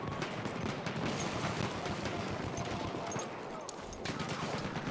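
Artillery cannon fire in a World War I trench-raiding video game, a dense, continuous barrage of booming blasts and gunfire roaring steadily throughout with no gaps.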